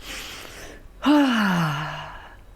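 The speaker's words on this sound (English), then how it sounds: "Big deep breath." A big deep breath drawn in during a tapping session, then released as a loud, close, voiced sigh that falls slowly in pitch and fades out.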